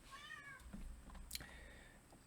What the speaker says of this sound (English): my cat is coming and telling me it's time to give her some attention.